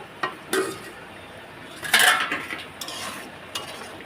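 A pot lid lifts off a pan of simmering fish curry, clinking metallically, with a few scattered kitchen clatters and a brief sizzle; no one speaks.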